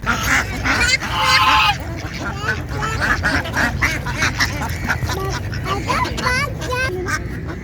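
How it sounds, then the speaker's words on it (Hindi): Ducks at the Karachi safari park being fed popcorn, honking and quacking loudly and continuously at close range while people talk nearby. "मैंने डक्स को अपने पॉपकॉर्न खिलाया"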